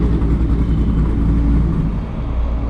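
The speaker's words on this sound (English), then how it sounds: "I feel like the burble in this is not as aggressive as it was before." A 1,000 hp Corvette ZR1 fitted with a new flame-shooting exhaust burbles at idle, a loud, steady low-pitched rumble that holds close and constant throughout, dipping slightly near the end.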